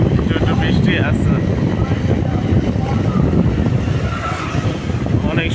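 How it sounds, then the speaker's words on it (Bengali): A motorcycle rides along a wet village road after rain, with a steady engine drone mixed with rushing wind buffeting the microphone throughout. "বৃষ্টির পরে মোটরসাইকেল চালাইতেছি"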